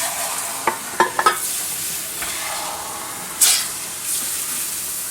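About half a cup of water is poured into a cooking pot of pasta e fagioli, giving a few sharp clinks followed by a short sizzling hiss against a quiet background.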